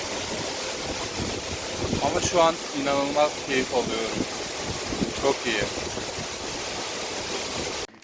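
A waterfall pours down right beside the listener, a steady loud roar of falling and spraying water with someone talking over it, in a mountain village in Theth National Park in the Albanian Alps.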